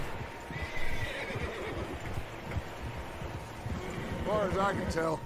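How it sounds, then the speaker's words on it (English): Several horses whinny and neigh in Red Dead Redemption 2, with clip-clopping hooves and a rumbling background; a high whinny rises near the end while a voice talks over parts of it. "Horses, quite a few of them."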